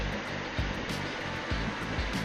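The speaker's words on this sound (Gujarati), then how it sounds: "હવે તેની અંદર પાણી નાખીને" Water is poured into a pressure cooker holding halved potatoes, a close, continuous gushing splash with a slight rhythmic pulse.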